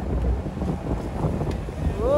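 Strong sea waves slosh and splash against a small boat in rough water, a continuous churning wash with wind buffeting the microphone while people shout and talk excitedly over it.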